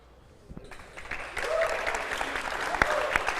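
Crowd applause after a great point in the 2016 Maryland Club Open final, rising from near quiet into sustained clapping that swells and holds strong to the end.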